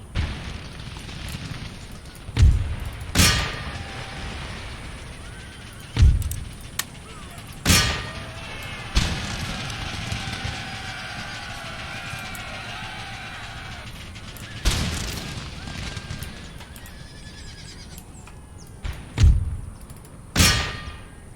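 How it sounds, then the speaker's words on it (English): Artillery fire in an Empire: Total War battle, with the American side taking fire that includes howitzers. Sharp booming shots land at irregular intervals, some clustered in pairs, over a steady background of battlefield rumble and distant noise. "their artillery is going to be an absolute menace"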